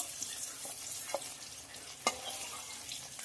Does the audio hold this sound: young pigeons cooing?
no